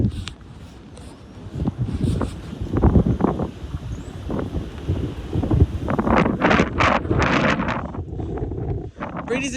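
Very strong wind blasts and buffets the microphone outdoors in open ground away from trees, with roaring gusts rising and falling throughout while voices talk under the noise.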